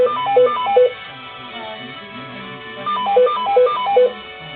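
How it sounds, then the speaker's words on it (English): A telephone rings in two bursts of rapid repeating electronic tones, a short pause between them, with faint background sound underneath and no talking. "So many phone calls."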